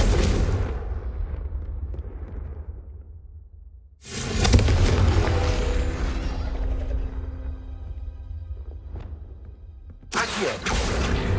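Confringo blasting curse in the Hogwarts Legacy video game, heard as loud booming explosions: a rumbling blast fading out, a sharp burst around the middle with a long decaying roar, then another blast at the end.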